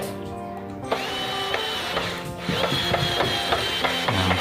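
Screws driven into a casement window frame, with a whirring driver that starts and stops over several short bursts, close and fairly loud, mixed with light knocks.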